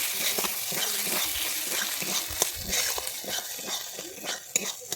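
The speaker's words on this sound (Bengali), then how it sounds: "টমেটো সসটা দিয়ে দিচ্ছি দিয়ে আমি এটাকে একটু নেড়ে নিচ্ছি" A spoon stirs tomato sauce into a thick paneer butter masala gravy in a pan, giving a steady run of soft scraping and wet squelching strokes with a faint sizzle beneath, no voices.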